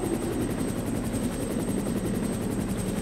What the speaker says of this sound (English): A rescue helicopter coming my way.